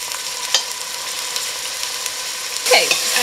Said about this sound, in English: And we're going to brown our beef in batches.